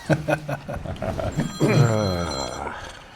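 A mobile phone rings during a meeting with a bright, repeating electronic ringtone that swells to fill the room. Someone speaks over the start of it.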